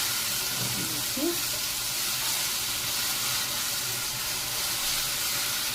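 Ginger garlic paste frying in a pan for a lentil dal, a soft, even hiss of sizzling oil at low volume with a brief faint stir near the start.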